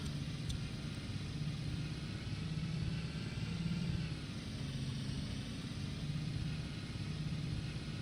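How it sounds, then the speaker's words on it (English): A 2016 BlueBird T3FE school bus driving in the Rigs of Rods game, its engine a steady low rumble with slight rising and falling drone, continuous and alone without talk. "A little sound of the bus in action there."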